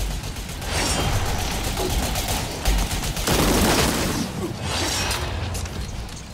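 Grenade explosions and bursts of gunfire in a sci-fi shooter game, a dense, loud, continuous barrage of rapid shots and booming blasts with mechanical clatter, sustained across the whole stretch without talk.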